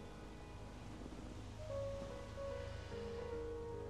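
Sea waves washing onto a shore make a steady, soft surf that rises slightly partway through, with faint sustained musical tones drifting over the wash.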